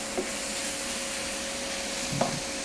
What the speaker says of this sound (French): Là, on fait cuire pendant 2-3 minutes de façon à bien faire fondre les épinards.